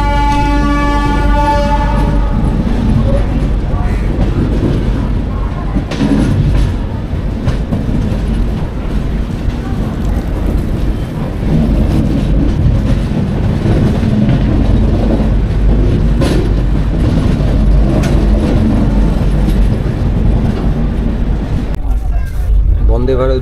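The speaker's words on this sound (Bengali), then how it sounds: "বন্দে ভারত ঢুকলো মানে ঢুকছে আর কি হাওড়াতে।" Vande Bharat train pulling into Howrah station: loud, steady rumble of rolling coaches fills the platform, with a horn-like tonal blast at the start and a voice talking over it throughout.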